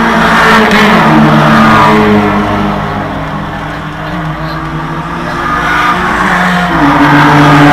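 A 2015 Subaru WRX STI at a club sprint at Sandown runs with a loud, steady engine drone that dips and swells as revs change, with a voice faintly under it.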